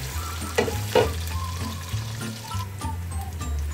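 Onions frying in hot oil for chicken pulao give a steady close sizzle, with occasional stirring scrapes and clinks throughout and no talking.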